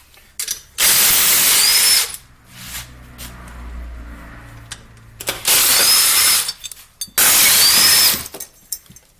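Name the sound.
power tool removing snowmobile engine motor mounts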